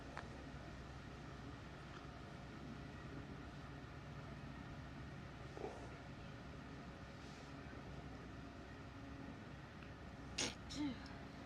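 A single short sneeze near the end, against a quiet low background hum, during a baseball game.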